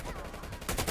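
Video game gunfire: a brief burst of rapid shots cracking over a busy, noisy mix, with the loudest reports near the end.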